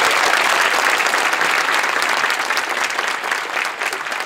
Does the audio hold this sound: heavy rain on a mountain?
no